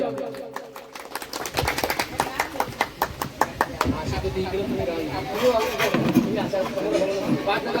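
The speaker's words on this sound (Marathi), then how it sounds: "टाळ्या होऊन जाऊ द्या" Applause at a retirement ceremony, a run of sharp claps rising out of crowd chatter, then settling into a steady wash of clapping and murmuring voices.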